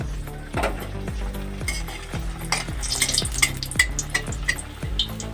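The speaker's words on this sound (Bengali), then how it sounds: "একটা একটা করে দিয়ে আগে আমি ভেজে নেব" Semolina mini mughlai frying in hot oil, giving a steady close sizzle with repeated low thuds and light clinks of a utensil against the pan.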